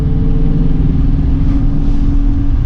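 A turbocharged 500-horsepower Foxbody, a light car of about 2,900 pounds fitted with turbo-style mufflers, drones along at a steady, loud, muffled engine rumble from inside the cabin while driving.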